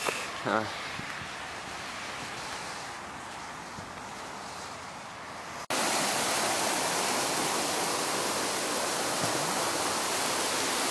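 Water rushing by a waterfall or stream in a natural spot on a morning jog, a steady broadband roar that jumps abruptly louder and brighter midway as the listener moves closer, with a brief handling knock near the start.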